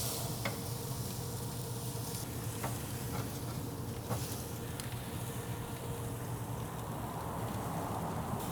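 Strip steaks sizzling on a grill as their fat renders out, a steady close crackling hiss with occasional sharp pops, continuous and fairly loud with no talking.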